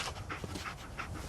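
The dog Dogmeat in the video game Fallout 4 pants steadily, with quick rhythmic breaths close up and no talk over them.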